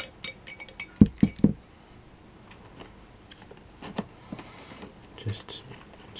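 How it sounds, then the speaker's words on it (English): Tinted paint being stirred in a glass jar: a quick run of three sharp, close glassy clinks, then scattered soft taps and ticks of the stirrer against the glass, with faint talk in the background. "Continue to stir it in."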